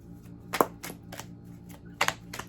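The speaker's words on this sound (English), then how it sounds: "I'm sitting here shuffling the cards all weirdly." Tarot cards shuffled by hand in a quiet room, giving a few soft riffling bursts and light taps spread unevenly over a couple of seconds, fairly close and alone.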